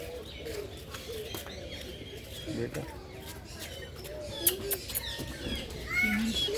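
Pigeons and other birds cooing and chirping at a large aviary in Lake View Park, Islamabad, with soft repeated coos and scattered tweets under nearby voices.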